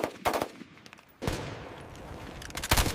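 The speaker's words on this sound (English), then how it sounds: "From precision aiming to full automatic fire, each soldier learns to master the AK-47." Bursts of AK-47 rifle fire on full automatic during soldiers' training, loud sharp rapid shots in clusters at the start and again near the end, with a sustained echoing rumble between volleys.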